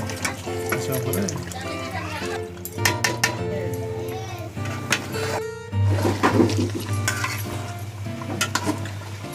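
Potatoes are stirred and fried in a pot for mutton curry, giving steady sizzling with scraping clatters from the spoon against the pot, under someone talking nearby.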